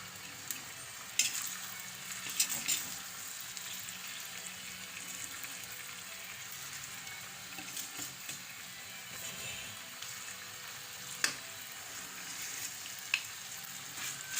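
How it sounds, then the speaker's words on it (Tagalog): Steady crackling sizzle of chicken frying in hot oil, continuous and close, with occasional sharper pops and spatters. "Guys, nagpiprito na tayo."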